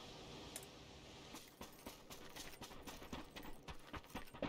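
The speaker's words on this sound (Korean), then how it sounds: "옆에 발소리" Footsteps close by in PUBG Battlegrounds, a quiet, steady patter of soft steps with faint clinks, low in level and without talk.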